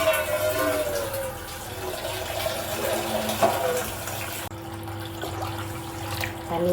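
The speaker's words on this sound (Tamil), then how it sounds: "இப்போ தண்ணி ஊற்றிக்கலாம்." Water pours into a pot of rinsed rice in a home kitchen, a steady, close gushing stream that fluctuates slightly in strength and briefly dips partway through.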